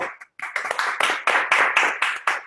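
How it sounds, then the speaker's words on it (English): An audience clapping in a group session room, a close, lively burst of applause with uneven rhythm that drops out briefly at the start and then keeps going steadily. "They're clapping for you."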